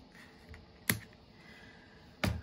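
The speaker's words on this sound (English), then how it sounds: "I'm just gonna trim this off." Two sharp cuts of scissors or a trimmer through paper while assembling a flipbook, each a short crisp snip about a second apart, close and moderately loud in a quiet room.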